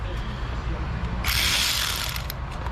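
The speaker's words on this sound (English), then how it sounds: "It's a series of wire brushes that goes on a 1/4" drive ratchet." Wire brush attachment on a 1/4-inch drive ratchet, worked on a Toyota Camry, giving a steady close scraping, clicking rasp that turns harsher and brighter about halfway through and then holds.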